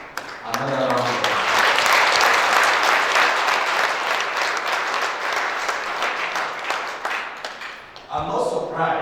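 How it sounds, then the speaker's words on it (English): Audience applause fills a public lecture hall for the inauguration of a university centre for security studies, a loud sustained round of clapping with voices heard briefly at the start and end. "Can we please once more give the Professor Kwaja another round of applause?"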